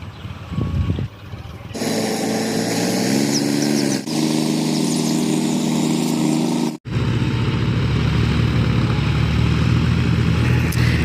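Two tractors ploughing a farm field, a loud steady diesel engine drone that drops out briefly and resumes with a deeper, rougher tone, close by and continuous.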